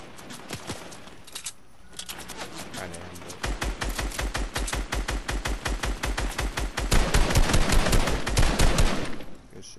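Rapid automatic gunfire from the Fortnite video game crackles in dense, repeated bursts, growing louder and heavier toward the end, with players talking briefly underneath.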